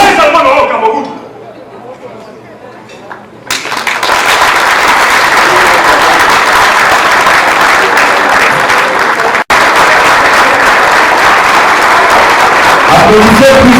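At a Ngond'a Sawa gala in Montréal, a voice speaks over a quiet room for a few seconds before a loud burst of crowd applause erupts and keeps going as a thick, continuous roar of clapping.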